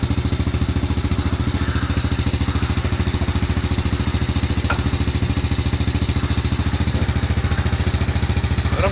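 A small Delta moped engine idles steadily nearby in winter, a fast even putter with a faint rattle, continuous and unchanging.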